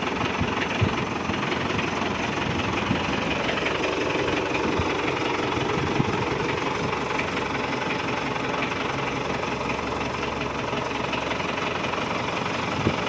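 A 2018 tractor engine with 2200 engine hours idles steadily and continuously, a dense mid-low rumble with slight knocking, no talk over it.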